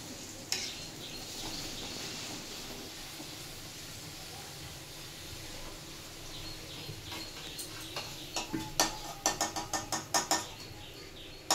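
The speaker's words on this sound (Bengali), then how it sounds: "তো এই যে লুচি ভাজা চলছে," Luchi puffing as they deep-fry in hot oil, a continuous close hiss building toward the end into a string of sharp bubbling pops and crackles, with no talking.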